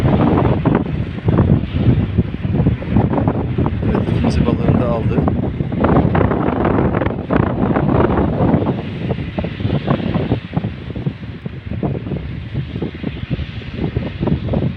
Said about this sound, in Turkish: Evet aşırı rüzgar vardı.